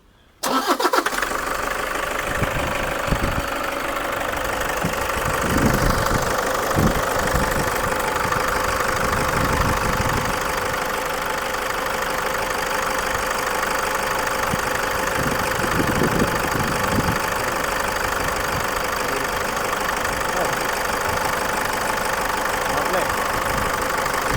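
A 2010 Toyota Innova's engine starts and settles into a steady idle, running continuously and close by, with voices talking intermittently over the rumble.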